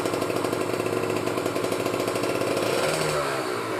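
Cold Kawasaki Ninja two-stroke motorcycle engine in the early morning, revved gently with a buzzing, rattling idle that rises slightly in pitch toward the end, close and steady with no talking.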